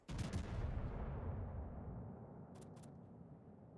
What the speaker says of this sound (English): Twice now I fire HE at him